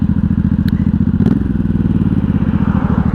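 A 1983 Honda Shadow VT750C motorcycle idles nearby with a loud, rhythmic low-pitched V-twin thumping pulse, plus a couple of brief clicks and clatters on top of the steady beat.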